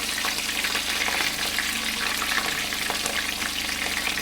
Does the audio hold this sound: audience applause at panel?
no